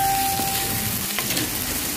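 Onions sautéing with salt in a pan, a dense continuous sizzle close up with a faint stirring scrape, no voices.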